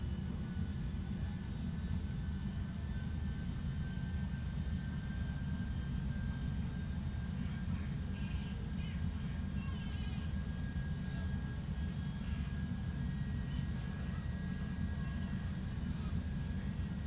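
Steady, loud broadband roar of a Boeing 757-200 airliner on landing approach to runway 18 right, a continuous engine and airflow rumble heard from inside, with no break in its level.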